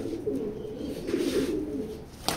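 A racing pigeon, a checker-patterned bird, coos in low soft murmurs that run steadily through the moment, fairly close, with a brief sharper sound near the end.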